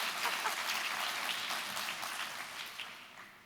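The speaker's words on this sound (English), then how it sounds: "We should applaud parents and also non-parents." Audience applause at a tech conference talk, a dense even patter of many hands clapping in a hall, heard fairly faint and tapering off gradually over a few seconds.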